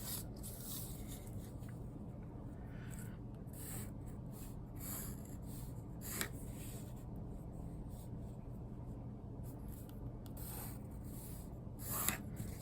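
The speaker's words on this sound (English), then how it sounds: "So everywhere outside of my letter, I'm going to draw a line across" A pencil drawn along a ruler on paper while lettering a promotion art piece makes quiet, close scratchy strokes in repeated bursts, separated by brief pauses.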